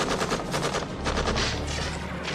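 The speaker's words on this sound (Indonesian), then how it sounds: "kru heli melepaskan tembakan balasan ke arah sniper musuh" A helicopter crew fires back at an enemy sniper in a film scene, a rapid, sustained burst of loud automatic gunfire with dense, overlapping shots.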